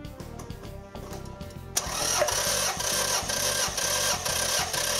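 A Toyota Avensis engine is cranked on the starter for a compression test on cylinder 4. After a quieter start, a loud, rhythmic chugging crank begins and keeps its even pulsing beat to the end.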